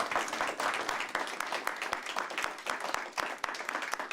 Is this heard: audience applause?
yes